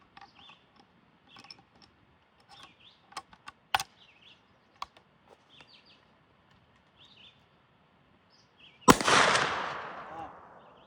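A Springfield 1884 trapdoor rifle fires once, a single loud, sharp blast with a long echoing tail. It comes after several seconds of quiet ticks and clicks from handling the breech.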